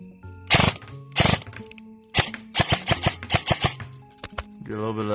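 A VFC M27 IAR airsoft rifle fires semi-auto shots, close and sharp: two single cracks, then a quick string of about six shots, then a couple more. A humming tone sits faintly underneath.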